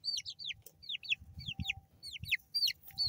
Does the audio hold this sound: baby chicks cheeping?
yes